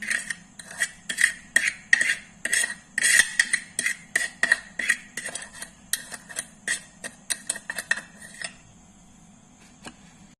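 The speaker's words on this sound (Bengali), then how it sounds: "এই দেখুন আমি এখন এগুলোকে মিশিয়ে নেব" Spoon clinking rapidly against a bowl while mixing spice ingredients with black salt, a steady run of sharp metallic ticks that stops near the end, close and clear with no talking.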